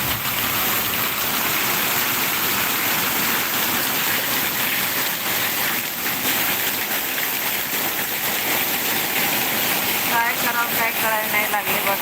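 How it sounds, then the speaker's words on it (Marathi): Heavy Mumbai monsoon rain with floodwater pouring into a house in a chawl, a dense, steady rushing wash of water that stays loud throughout, with a voice faintly underneath. "पाऊस पडतोय भरपूर आणि सगळ्या घरामध्ये आमचं पाणी घुसलंय"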